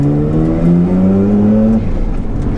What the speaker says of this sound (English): Perfect switch over from the primary turbo to the secondary, and perfect switch over to secondary fueling as well.